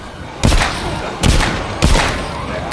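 Three loud pistol shots fire at uneven intervals in the zombie video game The Walking Dead: Saints & Sinners, each a sharp close crack followed by a short decaying rumble, with a low background ambience between them.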